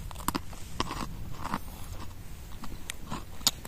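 Crunchy mini baguette being bitten and chewed outdoors at an autumn picnic during mushroom foraging, with close, crisp crunches in irregular bursts and sharp bites standing out.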